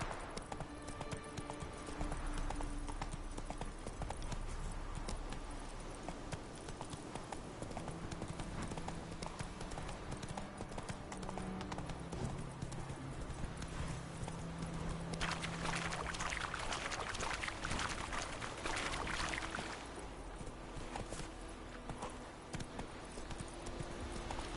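Steady clip-clop of the horse Roach galloping in a video game, a continuous rapid hoof rhythm with wind-like rushing behind it, no talking heard.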